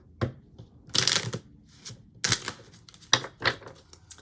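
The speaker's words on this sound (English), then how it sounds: "I feel like I need to shuffle these." A deck of cards is shuffled up close, with several quick, crisp riffling bursts separated by short pauses and no talk.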